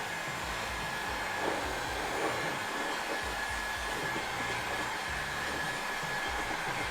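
A heat gun blows hot air onto vinyl wrap film with a steady, close whooshing drone and a faint whine, constant throughout with no speech.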